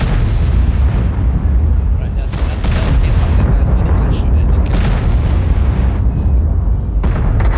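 Tank cannons fire HEAT rounds in World of Tanks battle, heavy booming blasts recurring every second or so over a constant loud rumble of engines and gunfire.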